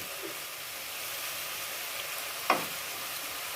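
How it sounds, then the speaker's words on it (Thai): Pork in a sweet sauce simmering in oil in a pan, a steady, even sizzle and hiss throughout with one brief louder crackle or pop near the end, no talking. "เราเคี่ยวให้ น้ำมันงวดลงนะคะ"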